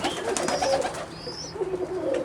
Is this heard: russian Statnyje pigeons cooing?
yes